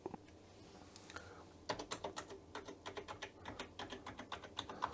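Keys on a Commodore Amiga 1000 keyboard, dirty and with sticking keys, are pressed in a quick run of crisp clacks after a quiet start, the rhythm fairly even and close up with no voices.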